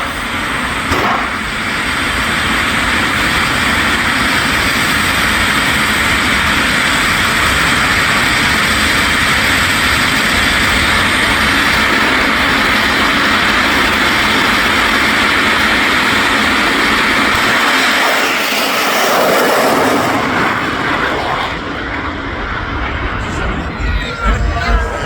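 Loud, roaring blast of a jet-engine funny car with afterburners, 5,000 pounds of thrust, at Santa Pod drag strip: a broad rushing howl and crowd noise, building and sustained, then fading away at the end.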